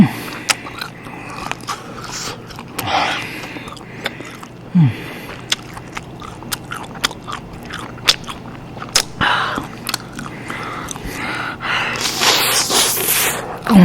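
Sausage being bitten and chewed up close for an ASMR mukbang gives repeated wet, squishy chews and sharp snapping bites at an irregular rhythm, close to the microphone, with a few soft breaths between them.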